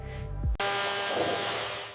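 A steady, abrasive whir of a power sander grinding body filler on a BMW M5 E28 continuously at close range after a brief low rumble at the start, with no talking.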